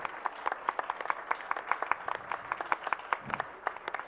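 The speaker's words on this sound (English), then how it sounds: "let's just give all three teams an amazing round of applause for the work they did" Audience applause for three student teams at a case competition finals, steady rhythmic clapping from a modest crowd, fairly close and even.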